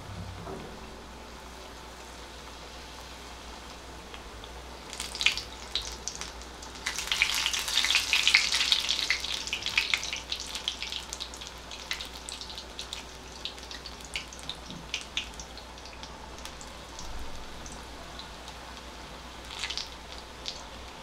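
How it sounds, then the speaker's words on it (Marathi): Spiced potato bhaji fritters in gram-flour batter fry in hot oil, a soft bubbling sizzle that swells loudly for a few seconds mid-clip then settles back to a quieter crackle, with no talk. "तेलामध्ये अशी ती थोडीशी हलवून घ्यायची."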